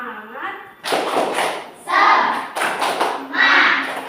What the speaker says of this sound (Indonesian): Supaya kita lebih semangat, kita tepuk semangat lebih dahulu.